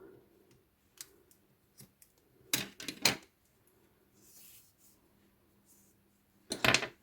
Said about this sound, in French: je vais couper une bonne longueur